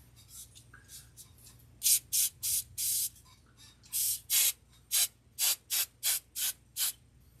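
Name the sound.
hairspray being sprayed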